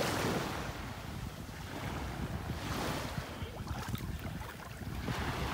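Waves wash steadily onto a beach in North Naples, Florida, a continuous broad rush with gentle swells, mixed with wind buffeting the microphone and no voices.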